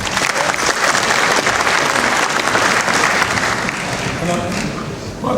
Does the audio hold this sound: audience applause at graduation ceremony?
yes